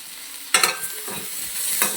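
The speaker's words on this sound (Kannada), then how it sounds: "ನೀಟಾಗಿ ಇದನ್ನು ಫ್ರೈ ಮಾಡ್ಕೋಬೇಕು" Onion, garlic, ginger and green chilies fry in a pan for a chicken gravy, making a constant close sizzle broken by a few brisk stirring scrapes.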